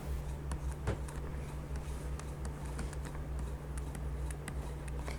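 Python code being typed on a computer keyboard, with light, quick, irregular key clicks over a steady low hum, fairly quiet and without speech.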